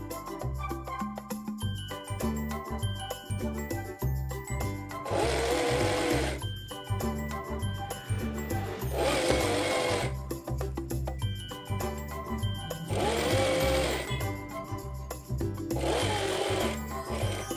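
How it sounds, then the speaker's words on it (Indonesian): A sewing machine stitching fabric for a double-layered scrunchie, its motor running in steady, even runs with short gaps between bursts of stitching, close and alone. "Sekarang lanjut menjahit kain bagian dalam."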